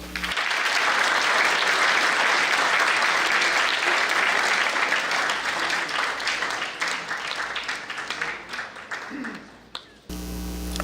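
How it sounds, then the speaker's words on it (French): Audience applause at a gala cocktail evening launching an international summit, a loud sustained burst of many hands clapping that thins out toward the end before a room hum remains. "sous vos chauds applaudissements"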